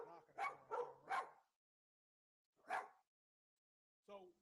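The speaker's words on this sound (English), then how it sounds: "Got both dogs here barking." Two dogs bark indoors, a quick burst of three loud barks followed by two single barks spaced apart, with near silence in between.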